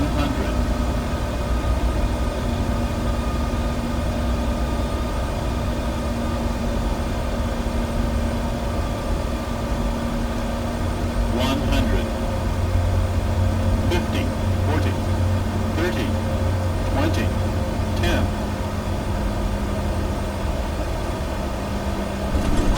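An ERJ175 airliner in a flight simulator touches down and rolls out on arrival at Washington DC National Airport. Steady engine and rolling roar, a constant mid hum and a few faint clunks run throughout without a break.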